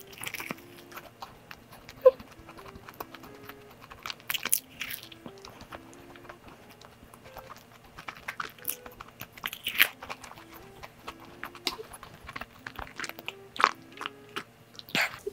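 Crisp crunching bites into a flaky croissant, with repeated crackling chews and small clicks, close and fairly quiet, no talking.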